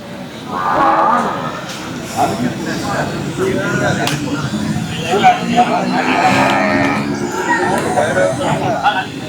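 Cattle low repeatedly at a busy native-breed livestock market, with moos rising over steady crowd chatter and people talking nearby throughout.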